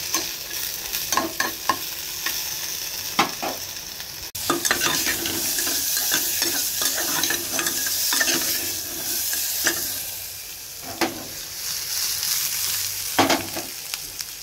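Cumin seeds tempering in hot oil for arhar dal, sizzling and frying steadily with repeated scrapes and stirs of a spoon against the pan, close and continuous with no talking.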